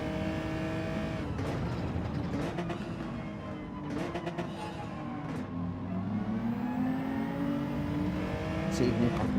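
Race cars in Gran Turismo 7, including an AMG, roar steadily through a lap with sustained engine drone, shifting revs and occasional tire squeal, loud and continuous under a voice talking.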